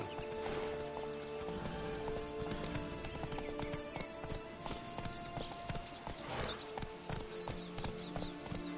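Hooves of the horse Roach clip-clop in a steady galloping rhythm in The Witcher 3, close and continuous, with a brief whinny and game ambience layered underneath.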